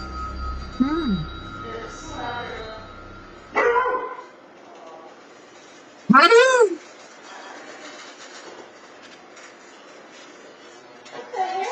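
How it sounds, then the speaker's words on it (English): Dogs barking at night indoors at something outside, a few sharp barks and yips spaced several seconds apart, loud and close, with quieter stretches and some background sound between them. "her dogs start acting as if there's someone outside"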